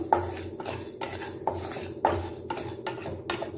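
Ingredients dry-roasting in a pan, stirred with a metal utensil that gives sharp scraping strokes and clinks every half second or so, close and clear, with no voices.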